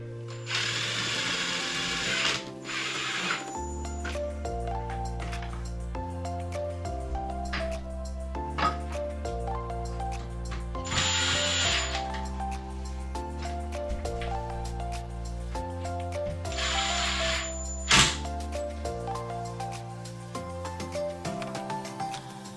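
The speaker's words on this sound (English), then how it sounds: "then I would go ahead and tighten everything down" A hand ratchet tightens bolts on a 5-in-1 baby crib during assembly, clicking in rapid, steady runs broken by short pauses, close and loud with no voices.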